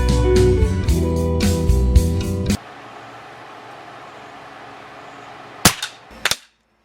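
A Crosman 362 air rifle fitted with a Williams sight fires a few sharp, close cracks in quick succession near the end, after a busy louder stretch and a quiet pause.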